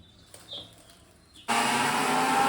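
After a quiet moment with a few small clinks, a mixer grinder abruptly starts and whirs loudly and steadily to the end, grinding roasted coconut without water.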